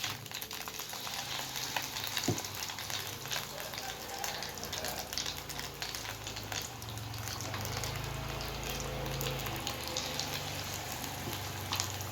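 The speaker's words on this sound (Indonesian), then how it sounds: "kita goreng pisangnya." Tanduk plantain bananas sizzle and crackle steadily in hot oil, a continuous close frying hiss with occasional faint clinks.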